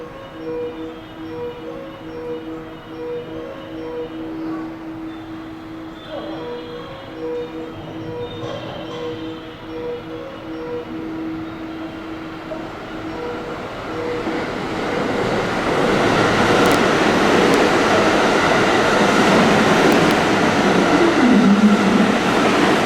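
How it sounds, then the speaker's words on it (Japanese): An eight-car JR West Biwako Line train bound for Maibara pulls into platform 2 of a station. Steady tonal hum and quiet platform ambience build into a loud, broad rumble and rush of wheels as the train arrives. "2番乗り場に電車が参ります。"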